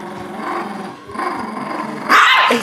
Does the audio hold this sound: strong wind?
no